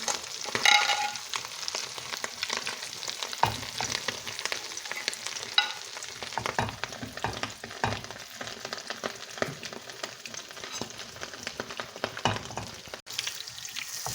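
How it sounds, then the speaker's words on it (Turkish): Stale bread fries in a pan with a steady, crackling sizzle that runs continuously, close and even, with occasional louder pops and a brief lull partway. "Yine koydum tavama kızartmak için."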